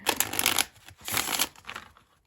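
A Shadow and Light Oracle card deck being shuffled by hand, in three quick bursts of papery riffling and rustling, close and fairly soft, with no talking.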